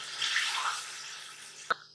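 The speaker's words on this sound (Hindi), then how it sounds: "और अब हम इसमें डाल देंगे पानी।" Water pours into a pot of rice while a vegetable pulao is being cooked, a short soft splashing stream that fades and ends with a single clear drip or clink, quiet and close.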